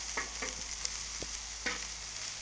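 Peppers, onions and broccolini sautéing on a griddle, an even sizzle beneath occasional spatula taps and scrapes, with no talking.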